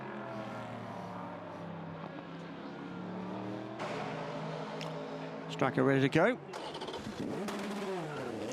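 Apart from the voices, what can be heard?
race car engine starting and revving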